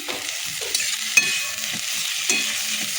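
Onions fry until reddish-brown in a pan for a capsicum, egg and potato curry, sizzling steadily while a utensil scrapes and stirs in several close, uneven strokes.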